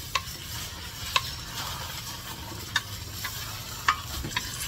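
An egg fries in oil in a newly seasoned pan, a steady soft sizzle running throughout with occasional sharp clicks of a utensil against the pan.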